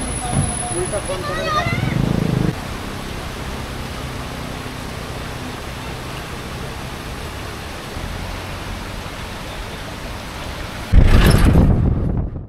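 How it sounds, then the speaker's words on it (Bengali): Patna Falls near Rishikesh pours down as a stream in a constant broadband rush. A brief voice and tonal sound open the clip, and a loud rumbling burst cuts in near the end. "এই হচ্ছে পাটনা ফলস। একটা ঝোড়ার মতো স্ট্রিম বয়ে আসছে ওপর থেকে।"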